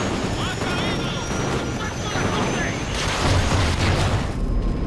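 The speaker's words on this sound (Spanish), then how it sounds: "Vale, ya me suena helicóptero." Helicopter in the Call of Duty Ghosts video game, a continuous rumbling rotor and engine roar under loud combat effects and booms, with someone talking over the gameplay.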